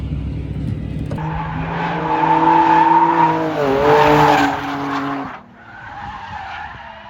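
Tires squeal loudly as a car skids through a corner during a passenger ride at Ebisu circuit, with the engine note rising and falling before the squeal cuts off and a quieter engine hum continues.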